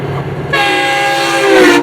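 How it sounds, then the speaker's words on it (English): A northbound FrontRunner commuter train led by locomotive 9 passes close by in Utah, its loud multi-tone horn blaring steadily for over a second over the rumble of the train. "here's a northbound FrontRunner with Loco 9 leading, which also gave me a horn show"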